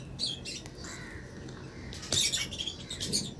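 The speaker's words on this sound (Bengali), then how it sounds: "তো দেখবেন এটা দেখা দেখে এখন টেম ছাড়া পাখিগুলো খেতে চলে আসবে" Cockatiels in a backyard colony, lutino and albino birds among them, arrive to feed by hand in the morning, giving scattered squawks and chirps with light scratchy patter over a low background rumble.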